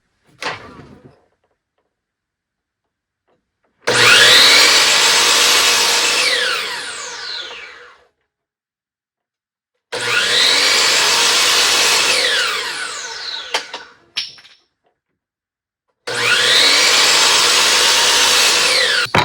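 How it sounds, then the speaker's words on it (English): A miter saw chops plywood into six-inch sections: three separate loud cuts, each a few seconds of whining, rasping blade noise, with spells of near silence between them and a short motor spin-down at the start. "we're going to move this over to the miter saw, chop it down into 6-inch sections."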